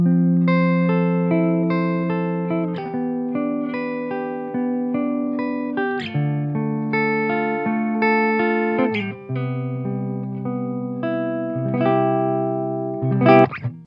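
Electric guitar runs through a VOX Valvenergy Silk Drive pedal used as a preamp, giving a bright, sparkling clean-to-crunch tone. Ringing chords and arpeggios sustain close and full for several bars, with no talking.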